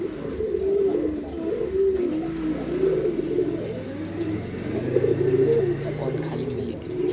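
A home-bred male pigeon coos in repeated throaty, rolling phrases, loud and close, with a faint background hum and no talking.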